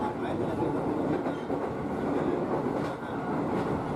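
A commuter train carriage running on rails around Jakarta, toward Duri and Tanah Abang stations, heard from inside as a loud, continuous rumble with faint rhythmic clatter from the wheels and no clear talk.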